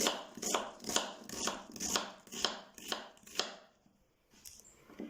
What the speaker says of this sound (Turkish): Bir tane soğanımız var. Yemeklik olarak ince ince doğruyorum.